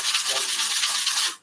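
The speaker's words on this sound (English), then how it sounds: "If your surface is uneven or something, then you will sand it." Sandpaper rubs over a wood surface in a loud, steady, close-up rasp lasting over a second before stopping abruptly, with no voices.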